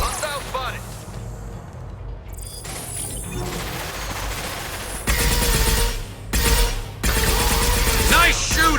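Gunfire in the Mass Effect Legendary Edition game: bursts of shots and impacts, loudest in two dense volleys near the end, mixed with game effects and a voice talking over the action.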